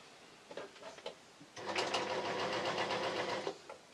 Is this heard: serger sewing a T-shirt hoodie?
yes